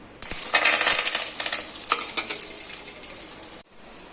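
Mustard seeds crackle and pop in hot oil for a fish curry, a dense, steady sizzle with sharp spatters, close up, ending abruptly near the end.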